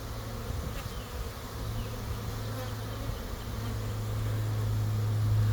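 A honey bee swarm drones steadily close by as it settles and lands, a dense continuous buzzing that grows slightly louder toward the end, with no voices.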